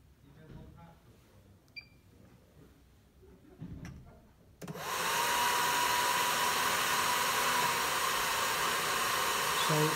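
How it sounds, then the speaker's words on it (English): An electric hair dryer switched on as a simulated load for an arc fault device test starts abruptly partway through and runs as a loud, steady whooshing roar after a few quiet clicks and handling noises. "Simulated load with a hairdryer."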